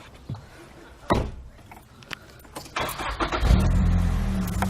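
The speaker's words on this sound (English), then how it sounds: "Race car." A car engine starts up and builds into a loud, steady rev over the last second and a half, following a few door or handling thumps and a brief voice.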